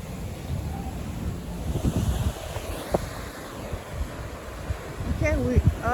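Atlantic Ocean surf and steady wind on a clifftop above a lagoon, a continuous broad wash with gusty microphone rumble, a few faint voices and thin whistle-like tones near the end.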